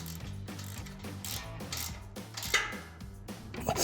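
A ratchet turns 13 millimeter bolts on a Body Armor 4x4 Ambush XT front bumper fitted to a 2017-2022 Ford F-250. Rapid, quiet metallic clicking continues steadily through the clip.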